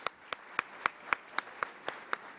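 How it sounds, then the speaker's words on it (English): A round of applause for sponsors at a conference luncheon, heard as about ten sharp, evenly spaced claps in a steady rhythm rather than a dense crowd ovation, with no talk over it. "Let's give them one more round of applause."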